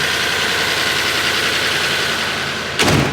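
A 1997 Lexus LS400 engine with a stumbling condition runs at a steady idle, a dense even hum with a faint ticking texture, broken near the end by a sharp brief bump or thud.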